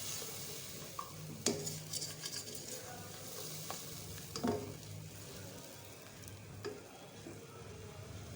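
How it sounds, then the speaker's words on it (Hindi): Lentils go into spices frying in a pan, giving a steady soft sizzle with occasional scraping clinks of a spoon stirring against the pot. "अच्छे से मसाला भून के और साथ ही हम इसमें डाल देंगे दाल"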